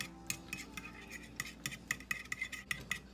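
A utensil scrapes and clinks briskly against a bowl while seasonings are mixed together, a quick irregular run of light metallic ticks, close and fairly quiet.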